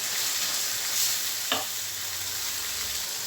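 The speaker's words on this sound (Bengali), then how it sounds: "কিছু সময় কষিয়ে দিয়ে নিলাম চিকেনটা" Chicken pieces sauté in a hot pan with green chilies and garam masala, giving a steady, even sizzle and a brief stir of a utensil in the middle, with no talking.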